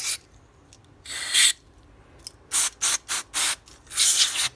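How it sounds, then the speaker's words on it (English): Several short bursts of hissing aerosol cleaner sprayed into a generator carburetor, close and loud, with brief pauses between them and one longer blast at the end. "So I'll just spray that on even more."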